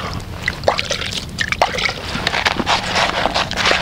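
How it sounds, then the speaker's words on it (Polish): Water poured over a fishing bait mix with G5 groundbait, giving close sloshing and trickling liquid sounds with soft splashy bursts, steady throughout and without any talk. "Zalejemy to oczywiście wodą."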